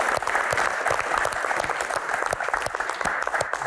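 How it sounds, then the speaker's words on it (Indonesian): Steady applause from a crowd, dense and continuous clapping throughout, fairly loud with no voices standing out. "tepuk tangan"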